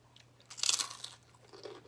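Crunchy packaged snack from M&S being bitten and chewed close to the mouth, a burst of sharp crackling crunches in the middle, then quieter chewing, with no talking.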